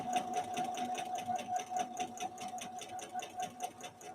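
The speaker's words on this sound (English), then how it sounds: "At the initial point, it's doing a back tack of about 6 or 7 stitches to lock off that seam." Bernina Activa 130 sewing machine running a straight stitch with a back tack of six or seven stitches, a steady fast rhythmic needle chatter with a constant motor whine, close and continuous throughout.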